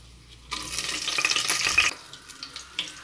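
Spices, green chilli and pandan leaf drop into hot oil for a country chicken curry, bursting into a loud steady sizzle for over a second before settling to a softer crackle with a few spits.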